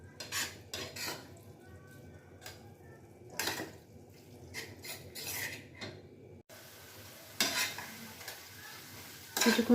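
Chicken keema masala cooked with yogurt is stirred in a pan. Bursts of spatula scraping and clatter come in irregular strokes over a low, steady sizzle, close by and alone.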